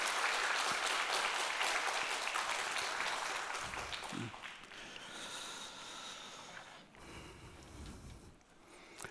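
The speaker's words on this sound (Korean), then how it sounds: "우리 찬양대 또 지휘자, 반주자에게 격려의 박수 한번 부탁드립니다" A church congregation gives the choir, conductor and accompanist sustained applause that fills the hall at first, then thins and fades with scattered claps and some shuffling.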